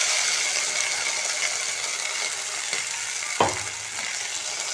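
Ground masala for a drumstick (moringa pod) curry sizzles and fries in a pan, giving a steady loud hiss, broken near the end by one clattering scrape of a spoon stirring against the metal.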